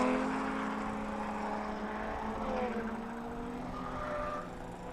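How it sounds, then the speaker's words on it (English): A Toyota Mark V Supra drift car circles a winter drift circuit at PBIR, its engine a steady, somewhat distant drone with shifting whining pitch and no voices. "Got the Mark V Supra going around."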